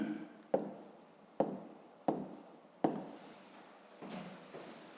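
Chalk or marker strokes on a board during a 5th-grade maths lesson, a rhythmic series of about six crisp tapping onsets each followed by a short scratchy drag, close and quiet with no speech.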